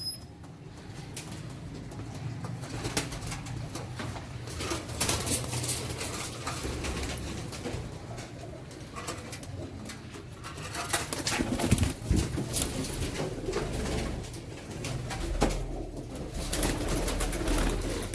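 Pigeons coo continuously inside a cage in a pigeon setup, with layered soft calls overlapping and occasional wing flutters, close by and steady throughout.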